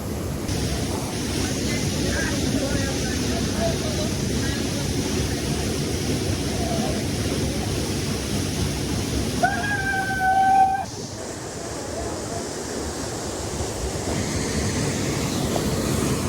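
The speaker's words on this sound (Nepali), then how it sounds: "पुरा ढुङ्गा चिरेर आएको पानी" Water gushes through a split in rock at a natural swimming spot, making a continuous loud, broadband roar throughout, with a brief voice calling out partway through.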